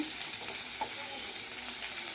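Chopped onion sizzles in hot oil in a wok, a steady, soft frying hiss with faint crackles and no voices.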